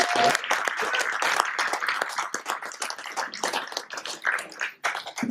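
Scattered clapping from an audience of Syracuse University film students, uneven, with individual claps standing out and the rhythm loosening and fading in places.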